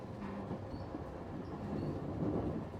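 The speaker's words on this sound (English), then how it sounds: "the murmur of the wheels rolling across the steel rails" Train wheels rolling over steel rails make a steady, low, muffled rumble, heard faintly as if from inside a carriage, with no voices present.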